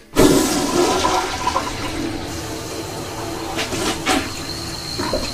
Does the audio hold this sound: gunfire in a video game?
no